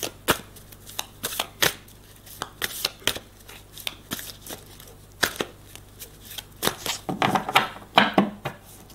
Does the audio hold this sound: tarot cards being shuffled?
yes